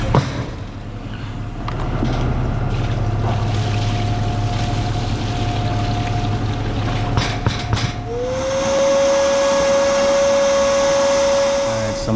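A vacuum cleaner roars steadily and close, its pitch rising into a high whine midway as it sucks up water from a leaking air conditioner, with a hissing, slurping edge.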